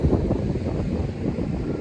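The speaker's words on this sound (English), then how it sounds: "Oh my goodness, look at those waves, that blue water." Ocean surf rolls onto a beach near Jupiter, Florida, a continuous broad wash of waves heavily buffeted by wind rumble on the microphone, with no voices.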